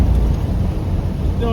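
A 1955 Ford Fairlane with a rebuilt Holley carburetor accelerating hard as the secondaries open, a loud, steady low engine roar mixed with road and wind rumble from inside the car.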